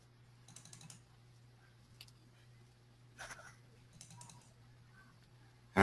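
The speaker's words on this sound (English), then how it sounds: "we've got to stop typing. It makes my screen fly by." Several people type on computer keyboards in short scattered bursts of light clattering keys, fairly faint over a low electrical hum, with a brief louder sound at the very end.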